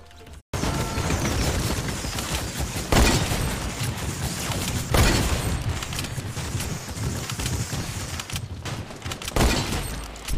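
Heavy automatic minigun fire in Fortnite, a dense, loud and continuous roar of shots with a few sharper bursts and impacts, running almost without a break after a brief silent start.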